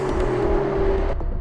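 Lamborghini Aventador V12 at the Vallelunga circuit, its loud, close engine holding a steady idle-like drone with a constant tone, then easing off briefly near the end.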